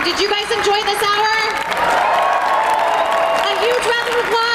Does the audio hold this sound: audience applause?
yes